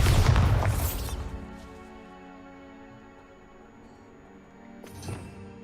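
A spell-blast explosion from the Hogwarts Legacy video game: a loud booming burst at the start that rumbles and decays over about a second, followed by a quieter lingering tail and a smaller pop near the end.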